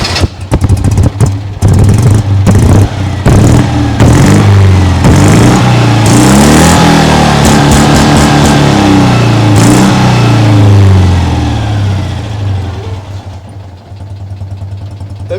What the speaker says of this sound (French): T'as vu ce ralenti?